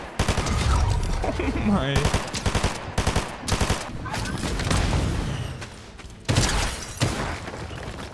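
Rapid bursts of gunfire from a player firing without scoping in during a ranked Fortnite match, dense and continuous across the whole stretch with brief gaps, a voice briefly reacting over it.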